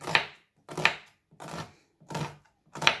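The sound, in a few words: onions being chopped by hand with a knife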